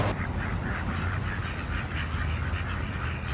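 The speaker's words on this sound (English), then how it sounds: "we're going to take these over by the pond and see what the ducks are doing" Ducks quacking by an outdoor pond, steady repeated quacks over a constant wash of ambient background noise for a few seconds, no talking.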